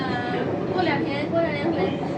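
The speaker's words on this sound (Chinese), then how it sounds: "对，这个就是火车，知道了吗？" A CRRC Puzhen B-type train on Shenzhen Metro Line 3 (Longgang line), running between Buji and Tianbei, gives a steady, fairly loud interior rumble and hum while passengers talk over it.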